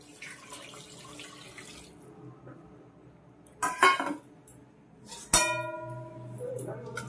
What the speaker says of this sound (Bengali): মাটনটা এরপর দিয়ে দিলাম এর মধ্যে গরম জল